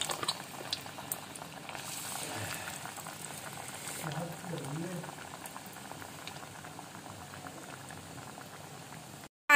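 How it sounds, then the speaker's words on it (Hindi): Potato nuggets frying in hot oil, a continuous soft bubbling and fizzing that runs steadily for several seconds at moderate level, with faint background murmur. "सारे नगेट्स जो है वो फ्राई हो रहे हैं और पोटैटो नगेट्स जो है वो फ्राई हो रहे हैं।"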